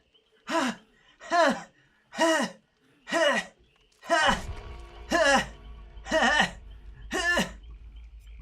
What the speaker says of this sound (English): Why is she constantly breathing like she's been on a sprint for 2 hours?